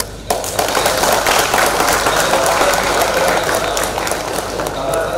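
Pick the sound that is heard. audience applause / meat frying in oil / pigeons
audience applause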